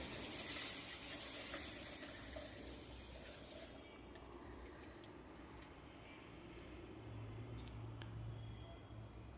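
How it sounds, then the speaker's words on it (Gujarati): Mung beans being rinsed with clean water inside a pressure cooker give a soft, continuous wet swishing and sloshing. It stays faint and close throughout, with a few brief splashes. "તેને આપણે કુકરમાં નાખી અને ચોખ્ખા પાણીથી તેને એક વખત આપણે તેને ધોઈ નાખીશું"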